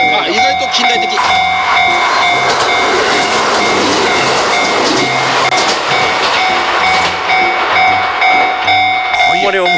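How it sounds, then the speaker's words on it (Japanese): A modern train passes close by, a loud continuous rumble and rattle of wheels with steady tonal whine over the whole stretch. "あ、 電車通るんじゃないですか。"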